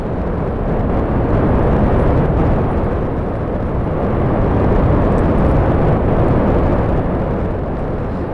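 Rocket engines roar at full throttle in Kerbal Space Program, a loud, steady broadband rumble that holds unbroken with slight swells and no voices over it.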